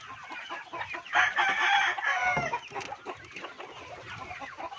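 A laying hen on a farm clucks loudly and continuously at close range, with a rising burst of cackling in the middle and softer clucks before and after.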